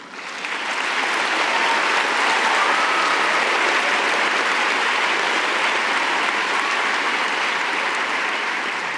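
Sustained applause from a large audience at a women-of-the-year awards ceremony, a dense, steady wash of clapping that swells within the first second and holds loud throughout.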